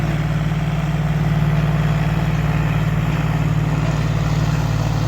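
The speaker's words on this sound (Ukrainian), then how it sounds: "Оце гігантський комбайн." A giant combine harvester engine runs at a steady idle, a loud, continuous low drone with a deep throbbing hum that holds unchanged throughout, with no talking.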